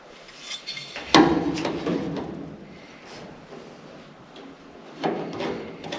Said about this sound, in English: I'm going to hammer that in the anvil a bit.